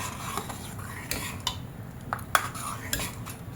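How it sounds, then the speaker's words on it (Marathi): A spoon stirs tadka into dal fry in a metal pot, steady scraping with irregular clinks against the sides, close and moderately quiet, no speech. "आता आपण हे व्यवस्थित असं मिक्स करूया"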